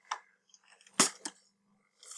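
Cardboard packaging of a Pokemon TCG Phantom Forces booster box being torn open from the side, giving a few sharp, close ripping bursts separated by brief pauses, with a rustling tear starting again at the end.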